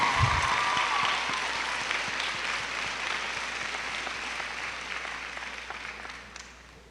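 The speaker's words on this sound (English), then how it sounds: "So we give you, the parents, an applause in gratitude for your help." A commencement audience applauds the parents, a dense wash of clapping that starts full and slowly thins, fading out near the end.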